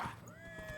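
Horse whinnying in Dragon Age Inquisition, a short rising-and-falling neigh with faint hoof clip-clop beneath, moderately close and quiet amid game ambience.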